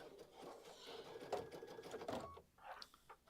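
A sewing machine runs close by, stitching decorative stitches at an embroidery event, with a rapid mechanical whir and patter that shifts in pace, alone without speech.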